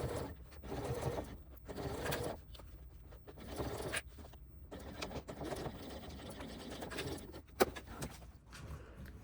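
A sewing machine stitches a seam on a crossbody bag in short, uneven runs, its soft mechanical whir and clicks stopping and starting close by with no talking.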